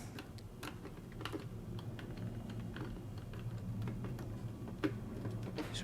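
A 1/8 inch socket turning out the faceplate screws of a GM Delco TheftLock car radio, giving soft, quick ticking clicks close by and quiet.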